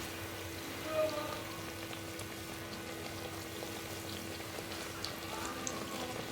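Eggplant slices dipped in gram flour batter fry in hot oil, giving a steady, fairly faint bubbling sizzle that runs evenly throughout with no distinct breaks.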